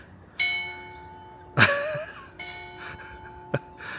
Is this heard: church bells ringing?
yes